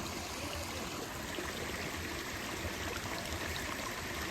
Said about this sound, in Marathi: हा ओढा किती छान स्वच्छ पाण्याचा ओढा आहे